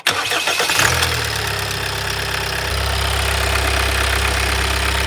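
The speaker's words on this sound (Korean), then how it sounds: "시동 한번 걸어볼까요?" A fourth-generation Kia Carnival (KA4) engine starts after a fuel hose replacement, cranking briefly, then catching and settling into a loud, steady idle close by, with no talking.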